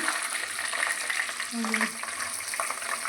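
Green chillies hitting hot oil with cumin in a pan, a close, steady frying sizzle with stirring, a brief tonal clink midway, lightly under a voice.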